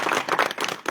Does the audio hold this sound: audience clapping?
yes